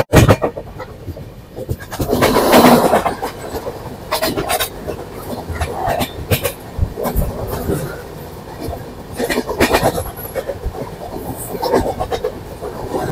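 A passenger train running on its tracks, heard from inside the coach: an uneven rumble with rhythmic clicking and clattering, swelling and easing over time.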